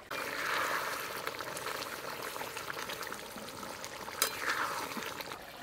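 Stingray fish curry gravy simmers in a pot with the fried fish pieces added, a faint, steady watery bubbling with one brief clink partway through.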